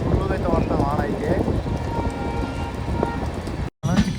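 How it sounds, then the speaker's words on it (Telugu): Heavy rain pours onto a train on the Bengaluru to Goa express route, a constant hissing wash of noise, while someone speaks over it. The sound briefly cuts out near the end. "చూడండి వర్షం ఫుల్గా అయితే పడతాం"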